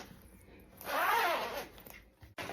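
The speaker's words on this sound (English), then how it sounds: "I've as well joined the zipper." A single zipper pulled along a sewn bustier pleated top, one smooth rasping run of about a second, close and clear in a quiet room.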